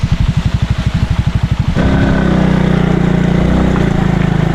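A motorcycle engine idles near the camera with a steady chugging pulse, then revs up into a louder, smooth continuous drone that holds steady to the end.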